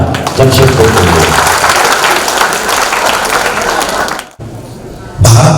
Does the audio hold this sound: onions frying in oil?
no